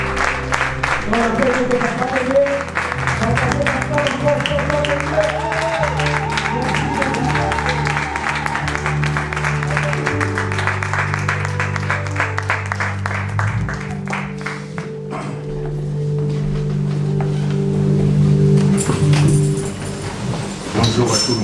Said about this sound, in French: Acclamons encore pour notre Dieu.